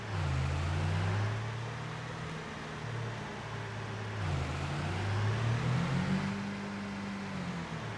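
A truck engine in Farming Simulator drives along a foggy riverside road at dusk, a steady low drone that dips and rises in pitch with throttle changes, close and continuous with no talking.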